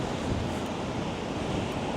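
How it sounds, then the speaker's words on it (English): Sea waves surging and gusting wind on Blackpool promenade, a steady, loud, broadband roar with wind buffeting the microphone throughout and no voices. "Oh, let's get away from this sea."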